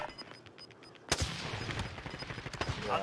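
Gunfire rings out in the Call of Duty Warzone battle royale game, with a sharp close shot followed by a rapid string of fainter bursts, all fairly quiet in the mix.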